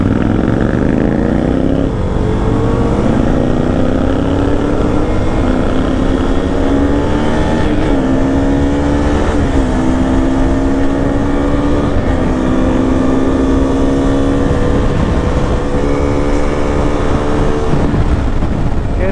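An Interceptor 650 motorcycle engine revs loudly and continuously while riding at night, its pitch climbing and dropping repeatedly as it accelerates through the gears.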